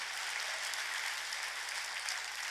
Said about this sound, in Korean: 깨달은 사람은 박수다.